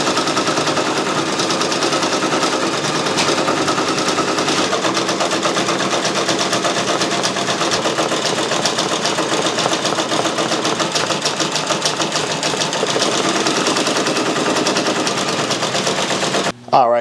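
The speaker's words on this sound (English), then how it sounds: "we just got done stitching out the Zenitsu sword onto the sleeve of our hoodie using the 9x3" MightyHoop" A Brother Persona embroidery machine stitches a sword design onto a hoodie sleeve held in a 9x3-inch MightyHoop, giving a loud, steady, rapid needle clatter that runs unbroken for the whole stretch before stopping abruptly at the end.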